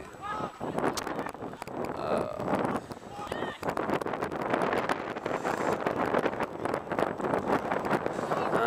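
Heavy, gusty wind rushes over the microphone at a misty under-17 football match between Queens Park and Celtic, a constant loud roar with buffeting bursts throughout.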